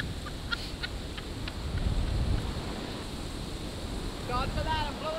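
Strong wind roars and buffets the microphone on a beach at Marco Island, with surf rumbling underneath and gusts swelling louder toward the end.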